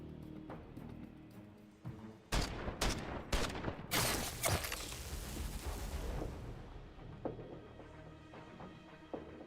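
Gunfire erupts while shooting at an enemy in a tactical time-bending roguelite RPG, a cluster of sharp shots and bursts in rapid succession, loud and close, trailing into scattered fainter reports.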